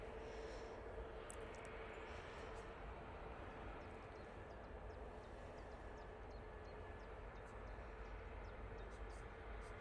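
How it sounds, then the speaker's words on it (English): A Virgin airliner landing at Manchester Airport, heard as a steady, fairly quiet broadband jet roar that holds evenly throughout, with faint ticking and high whine above it and no distinct touchdown. "so the Virgin will continue with their landing"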